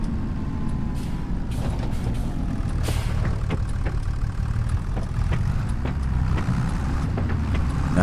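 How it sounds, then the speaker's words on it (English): Tractor engine in Farming Simulator 25, a steady low rumbling drone running throughout with faint clicks and ticks over it, no talk. "This tractor would not go very far or fast."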